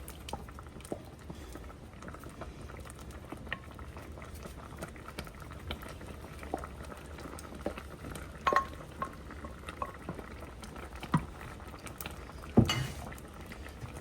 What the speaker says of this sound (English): Give it some mixes and some stirs as we're going